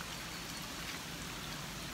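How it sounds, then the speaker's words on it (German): Rain falls steadily outdoors in heavy wet weather, a constant dense hiss of drops splashing with no voices. "Geiles, geiles Regenwetter."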